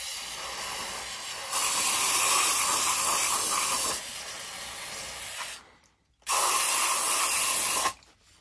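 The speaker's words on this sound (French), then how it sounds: "C'est le meilleur achat de toute ma vie, le nettoyant frein, c'est une dinguerie." Brake cleaner is sprayed around the oil filter area of a Toyota Auris during an oil change, in two long, loud hissing bursts separated by a brief silence.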